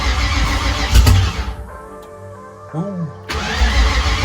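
Fox body Mustang with open exhaust cranking and catching on its first start, loud sputtering bursts, a brief lull with the starter whirring, then the engine roaring again close up; a voice exclaims briefly.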